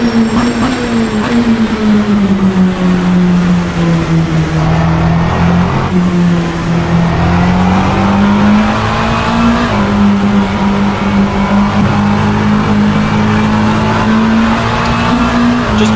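LMP2 prototype race car in the Assetto Corsa racing game, a loud continuous engine tone rising and falling with gear changes and throttle as it laps the track, with no talk.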